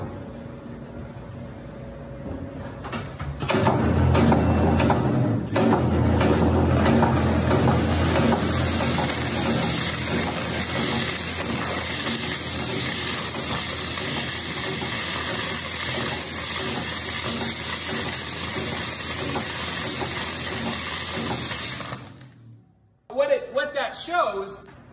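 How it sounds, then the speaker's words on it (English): Coulson ice blaster cleaning grease and oil off an engine, a loud steady broadband hiss of pressurized blasting that runs continuously for most of the clip before cutting off, with voices underneath. "So we have lots of users in the field that are actually using ice that are blasting engines for things like inspections or maintenance"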